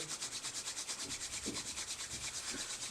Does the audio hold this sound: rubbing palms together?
yes